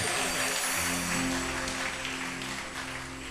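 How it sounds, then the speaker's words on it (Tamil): Congregation at a Tamil Christian church service claps together, a dense continuous patter of applause with a low musical drone underneath, steady then easing slightly toward the end. "கர்த்தருக்கு ஒரு கைத்தட்டு கொடுங்க."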